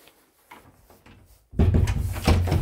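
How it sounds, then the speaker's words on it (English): A basement door in a bungalow opens or closes with a few faint knocks and creaks, then a louder close rumble and wooden clatter of the door moving, no one speaking. "Door to the basement."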